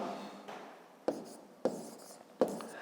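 Pen strokes writing long division by hand on paper, for a fifth-grade math exercise: faint scratching with three sharp, distinct strokes spaced about half a second apart.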